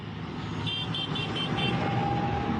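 Vehicle horns toot in a quick run of five short beeps during a Dutch farmers' tractor protest, set against constant roadway traffic noise, with a longer steady horn note sounding later.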